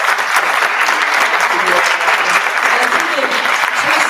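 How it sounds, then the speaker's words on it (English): Steady, dense audience applause fills a candidates' forum for Akron City Council on environmental justice, holding at an even, fairly loud level for the full four seconds with no clear pause. "Tracy, a big round of applause"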